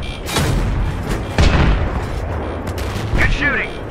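Loud bursts of gunfire and heavy booming shots in the video game Battlefield 3, with a few sharp impacts amid a constant battle roar and shouted voices.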